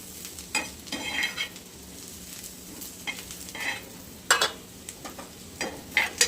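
Onion roasts in a pan for coconut chutney with a soft steady sizzle, broken by occasional sharp scrapes and stirs of a spatula against the pan, quiet and close.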